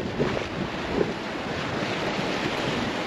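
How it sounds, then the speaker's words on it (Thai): Sea waves wash ashore at a Chanthaburi beach in Thailand, a continuous surf rush mixed with gusty wind buffeting the microphone, with no voices. "นี่ครับทะเลของจันทบุรีเราครับ"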